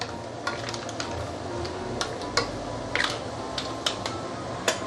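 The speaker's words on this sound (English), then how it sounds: "The lala will take only less than 1 minute to cook" Lala clams cooking in a hot wok for Singapore hokkien mee with prawns, a steady broadband sizzle broken by frequent sharp clicks and clatters of shells and utensil against the pan, close and continuous with no talking.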